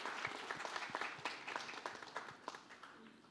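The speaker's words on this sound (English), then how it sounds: "A round of applause for these girls, please." An audience at a designer fashion showcase claps for the models, dense applause close by that tapers off slightly toward the end, with no talking.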